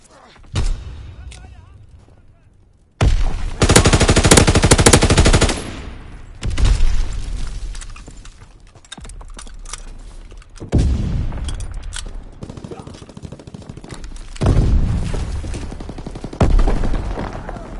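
Loud bursts of gunfire in a PS4 shooter game, with several heavy volleys and rapid shots booming in clusters across the scene, separated by quieter gaps.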